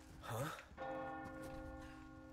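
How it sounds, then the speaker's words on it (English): A deep church-style bell tolls in the Resident Evil 4 Remake game, one resonant strike ringing out with a long sustained hum, preceded by a brief excited vocal shout. "Oh, the bell! The bell! The bell!"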